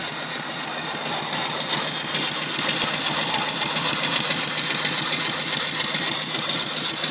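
Small steam engine with a 3 inch bore and 3 inch stroke, about 30 inches tall, runs steadily while driving an alternator, giving a continuous, even mechanical chugging and hum with no voices.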